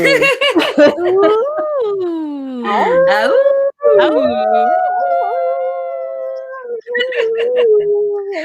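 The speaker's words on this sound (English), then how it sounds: "shall we revisit the big howl from the middle of last month?" Long, wavering howls rise and fall, several voices overlapping into a sustained chorus, clear and fairly loud, with brief gaps between.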